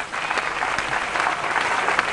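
Audience applause fills a garba celebration at Shri Bhadrakali Garbi in Porbandar, a steady, dense crackle of many hands clapping at close range, with no voices over it.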